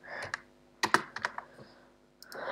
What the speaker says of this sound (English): If I can type grep